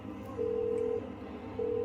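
A quiet telephone ring heard from the caller's end as a story sound effect: two faint, even ringback tones separated by a short pause over a low hum.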